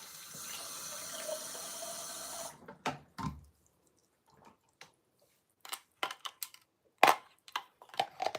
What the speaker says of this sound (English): I'm just going to add some water, more water in my bottle.